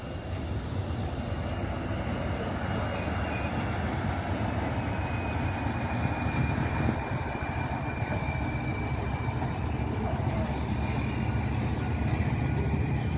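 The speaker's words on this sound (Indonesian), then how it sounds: "Inilah kereta proyek kereta cepat" A steady, heavy rumble of an overhead catenary installation work train on a high-speed rail construction project near Bandung, rolling along the tracks, droning evenly and loudly throughout with no voices.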